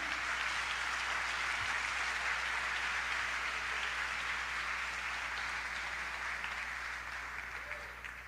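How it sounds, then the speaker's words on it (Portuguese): Dense, steady applause from a congregation at a church gathering, a continuous wash of clapping that holds evenly and fades slightly toward the end. "Pode aplaudir."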